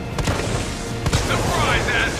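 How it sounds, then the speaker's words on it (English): A shotgun fires twice in Resident Evil 3 Remake, each blast a sharp, loud crack within dense, busy game sound. "Shotgun."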